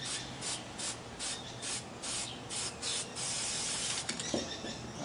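Spray paint goes onto a 3D printed dinosaur as a coat in repeated short hissing bursts, close and fairly quiet, ending in a longer continuous spray with a light clatter.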